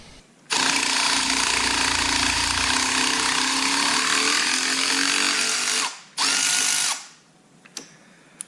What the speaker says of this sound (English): I switched to my Milwaukee ratchet